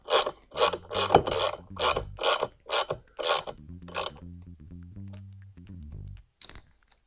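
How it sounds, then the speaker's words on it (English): Ratchet wrench tightening a 13mm nut on an off-road vehicle windshield wiper kit, about ten quick rasping clicks in bursts, then a slower run of softer clicks, close and alone. "Then tighten this 13mm nut to 12 foot-pounds."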